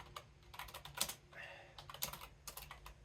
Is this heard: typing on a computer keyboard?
yes